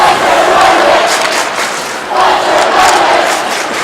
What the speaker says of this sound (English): And the crowd chants his name.